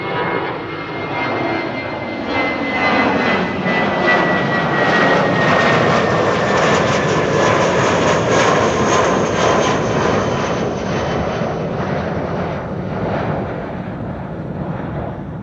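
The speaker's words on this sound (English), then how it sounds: "Saudi cargo arrived from Jeddah with Jeddah Nights, going to runway 27 near the McDonald's." A Saudi cargo plane inbound from Jeddah to Amsterdam Schiphol, heading for runway 27, roars steadily and loudly throughout with a broad engine rumble and a slowly falling whine, no speech.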